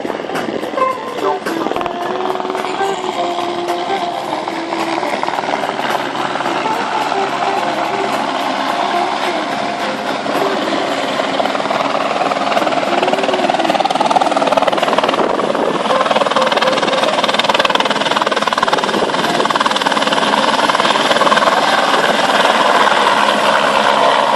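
A Eurocopter Écureuil AS350 B3 gendarmerie helicopter runs steadily nearby, its turbine whine and rotor drone holding loud and continuous throughout, growing slightly louder toward the end, with a voice talking over it.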